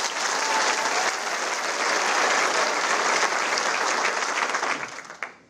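A theatre audience at a comedy gala applauds loudly and continuously for about five seconds, a dense wash of clapping that fades away at the end with a few last claps.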